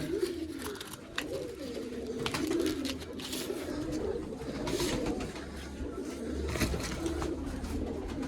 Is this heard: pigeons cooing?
yes